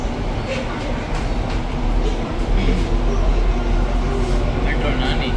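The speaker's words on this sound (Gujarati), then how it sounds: "મેટ્રો નાની." A metro train in Ahmedabad rumbles steadily throughout, a dense low drone with rolling mechanical noise, with voices talking over it.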